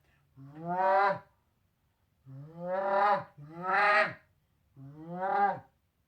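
Four drawn-out, moaning goose-call notes, each rising then dropping in pitch, two run close together, played near and clear.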